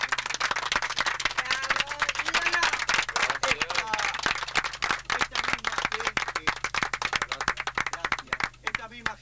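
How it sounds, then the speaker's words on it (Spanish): An audience claps at a gathering honoring popular artists, a dense run of sharp overlapping claps that goes on for several seconds, with a voice speaking over part of it. "tendríamos que aplaudir"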